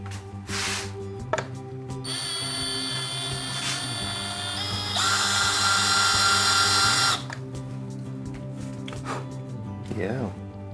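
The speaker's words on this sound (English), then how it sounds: "the drill goes out from the inside and drills straight in" An electric drill bores into a wooden guitar body, giving a steady whining motor tone that climbs higher and brighter partway through, framed by low workshop noise and a few brief vocal sounds.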